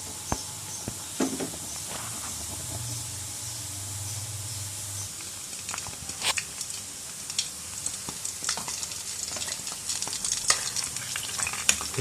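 Gulab jamun frying in hot oil give a steady, soft sizzle and hiss with occasional small pops and a brief stir, quiet and close, with no talk.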